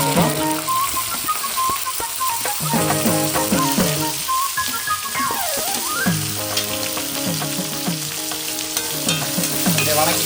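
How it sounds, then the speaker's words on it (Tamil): Sliced onions fry and crackle in hot oil with dried red chillies in a home kitchen pan, a busy close sizzle broken by repeated scraping stirs of a spatula. "அடுத்து வெங்காயத்தை போட போகிறோம்."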